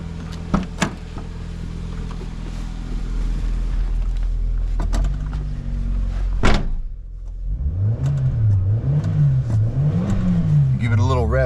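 A 1998 Daihatsu Opti Aerodown Beex turbo with an 8,500 RPM redline idles, then revs up and down in a few rising and falling swells. A door or latch thumps nearby, and someone talks over the engine.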